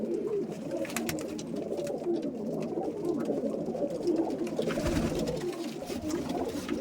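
Pet flying pigeons cooing together in a loft, a continuous low burbling chorus over several seconds, close and steady with a brief dull thump near the end.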